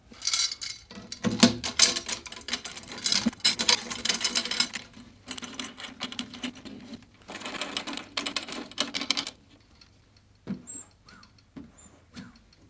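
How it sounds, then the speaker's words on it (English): Tension rods are screwed down finger tight on a tom drum hoop over the head. Close, rapid rattling and clicking of the threaded rods comes in several busy bursts, then fades to a few faint ticks. "then the hoop goes on top of the head, and then we screw it down finger tight"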